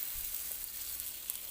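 Besan-battered bread slices fry on a nonstick tawa with a little oil, giving a soft, even sizzle that holds steady and stays fairly quiet throughout.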